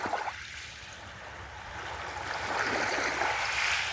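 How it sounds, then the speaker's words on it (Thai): Sea waves wash against the shore at Bang Phra, Si Racha in Chonburi, with a steady broad hiss of moving water that swells gently louder toward the end. No voices are heard. "เดี๋ยวมาฟังคลื่นกระทบฟังกันครับนี่ครับธรรมชาติจริงๆ ครับ"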